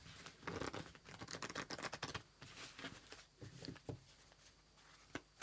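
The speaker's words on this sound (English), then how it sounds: "Let's do one more shuffle." Tarot cards are shuffled close up in a quiet room, a soft, rapid papery patter of riffles and taps with a sharper snap near the end.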